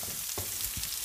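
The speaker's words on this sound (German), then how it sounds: "Und jetzt kommen da nämlich die Zwiebeln rein. Und auch die einmal ein bisschen anrösten." Onions sizzling as they brown in a hot pan for a schaschlik pot: a steady, close frying hiss with a couple of soft stirring knocks, and no talking.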